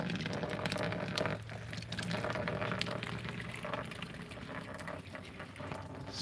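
Hot water trickling out of a single solar hot water panel as the last of the flow runs down, a steady soft watery wash with faint splashing, continuous and fairly quiet without talk.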